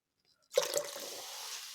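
Liquid poured into a salt solution of three tablespoons of salt in 800 grams of water during gold refining: a sudden splash and steady rushing pour beginning after a half-second of silence, fairly close and continuing without talk.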